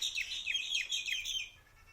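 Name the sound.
birds chirping outdoors on a local street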